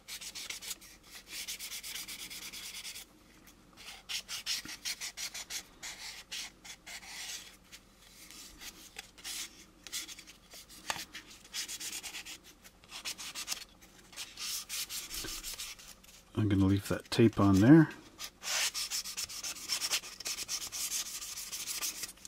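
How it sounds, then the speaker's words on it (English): Plastic intercooler bottoms of an AMT U.S.S. Enterprise model kit are lightly sanded in short scratchy strokes, soft and close, with someone speaking briefly and a louder rubbing burst near the end. "Sand these intercooler bottoms."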